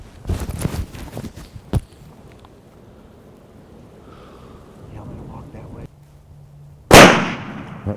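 A single loud, sharp rifle gunshot while hunting outdoors, ringing out after quieter rustling and handling, with earlier clattering noises and a faint hum.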